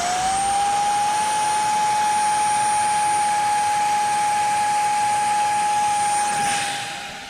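An Arrows T33 RC model jet on a 4S 1300 battery flies past with a loud, steady high-pitched ducted-fan whine, holding one tone and then fading near the end.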